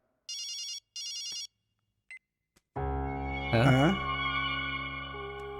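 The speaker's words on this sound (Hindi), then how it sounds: "किसका फोन बज रहा है ये उसका ही है" A phone rings in two quick electronic trilling bursts, then a few clicks give way to a loud, echoing, distorted tone with a wavering melodic line.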